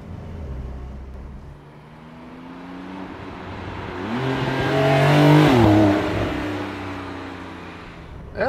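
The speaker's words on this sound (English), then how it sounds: "close top acceleration, let's put the Sports Plus. Hey, and then 50 kilometers an hour to 100." Porsche 911 Targa 4S (992) engine accelerating hard in Sport Plus mode from 50 to 100 km/h, heard from inside with the revs climbing and dropping through gear changes and a strong surge near the end.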